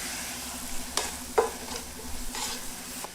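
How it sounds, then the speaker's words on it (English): Onion, tomato and green onions sizzle in melted butter in a pan while a spoon stirs them a few times, a steady close frying hiss broken by brief scraping stirs. "Add the piece of butter, and into that going to add the onion, tomato and the green onions. Cook stirring few times,"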